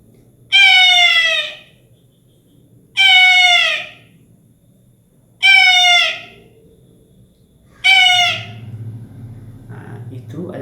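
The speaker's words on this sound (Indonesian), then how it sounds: "Nah, itu adalah suara elang." Eagle calls: four loud, evenly spaced, descending screeches, each about a second long, separated by short pauses, with quiet low background noise.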